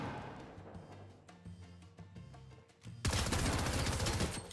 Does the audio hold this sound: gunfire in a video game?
yes